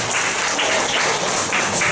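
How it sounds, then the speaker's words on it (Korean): Guests at a first birthday party applaud after the candle is lit, a loud, continuous patter of many hands filling the room without pause. "오, 이런 박수가 좀 많아야 되죠?"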